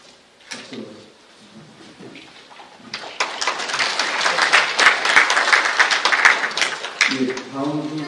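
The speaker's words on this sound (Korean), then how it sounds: "박수로" After a presentation at a Korean chemical, biological and radiological defense society conference, the audience breaks into applause; scattered voices first, then clapping swells into a full, steady round and begins to fade as a voice returns.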